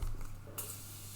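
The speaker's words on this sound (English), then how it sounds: "Really like the setting spray by Morphe, by the way." A short, sharp hiss of a makeup setting spray bottle misting suddenly cuts in midway, close to the microphone, after a brief quiet rumble.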